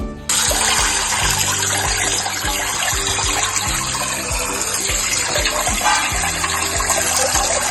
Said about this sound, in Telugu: ఈ చికెన్ని కూడా మనము క్లీన్గా టూ త్రీ టైమ్స్ సాల్ట్ వేసి కడుక్కోవాలి